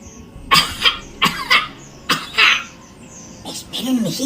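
An elderly grandmother coughs in a series of harsh, close bursts, roughly six coughs in uneven clusters, ending with a softer throat-clearing sound.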